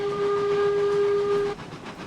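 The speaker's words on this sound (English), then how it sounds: "Still, that whistle is flat. We need some more body into that whistle" Steam locomotive whistle from the Railroads Online railway game, a loud steady flat-toned blast held for about a second and a half before cutting off, leaving rumbling train running noise.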